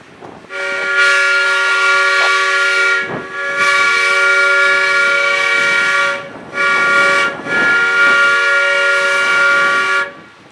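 An air whistle blown on a moving train sounds in several loud, sustained chord-like blasts of differing lengths separated by brief gaps, with no talk alongside.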